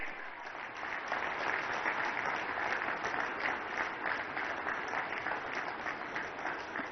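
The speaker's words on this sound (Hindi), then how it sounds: "तालियों की गड़गड़ाहट से उनका स्वागत किया जाए।" A large crowd gives sustained, even applause to welcome a chief minister at a public gathering. It builds quickly and holds steady for several seconds with no voices over it.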